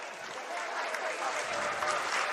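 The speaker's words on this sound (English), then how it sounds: "Marco Menino getting a round of applause as he deserves it." Crowd applause in a gym during a high school boys basketball state playoff game, Chatham versus Millburn, as a player checks out: a faint, continuous wash of clapping and crowd noise heard from afar, with a voice faintly in the mix.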